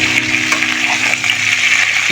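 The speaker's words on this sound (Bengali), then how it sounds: "চলো এটা একটু ভাজা হয়ে গেলে বাকি সবজিগুলো দিয়ে তারপরে আমি ড্রাই স্পাইসেস দেব।" Pointed gourd and snake gourd pieces fry in a pan with a loud, close, continuous hiss of hot oil and no talking over it.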